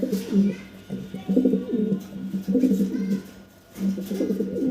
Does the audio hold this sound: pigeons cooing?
yes